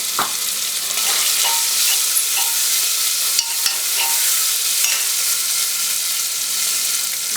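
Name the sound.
chopped onions and spices sizzling while stirred in pan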